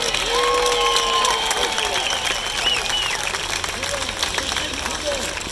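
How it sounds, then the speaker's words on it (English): Crowd at a minor-league baseball game applauding and cheering, a broad wash of clapping with voices calling out and some announcer-style talk in the mix. "we want you to give them all a big round of applause one more time"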